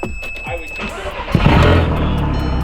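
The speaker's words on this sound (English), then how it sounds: "as far as starting it, it starts right up. Literally just turn key, pushing the clutch" A turbocharged car started with the key and clutch pressed: a brief cranking whir, then the engine catches and settles into a loud, close, steady idle rumble.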